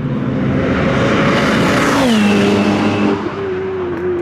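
Ferrari 488 Pista engine accelerating hard on a race track, loud and close, a steady roar whose pitch climbs with revs and then drops at a gear change before building again, no talk.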